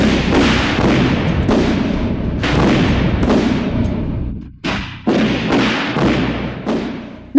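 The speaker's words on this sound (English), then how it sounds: "What beautiful fireworks." Fireworks burst in a rapid series of heavy thuds and cracks, loud and close, with short gaps between volleys and a final sharp pop after a brief lull.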